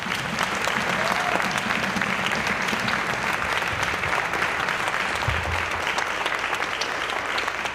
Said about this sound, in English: let's give those players and these students a big round of applause